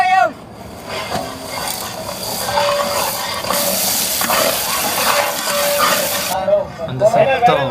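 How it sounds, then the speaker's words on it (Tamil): Village-style cooking of king crab with fennel, chili, peeled garlic and shallots sizzling and frying in a pan, a steady hiss running under a person's talk. "அந்த சத்தம் செம்மையா இருக்கு. பொரியல் சவுண்ட்."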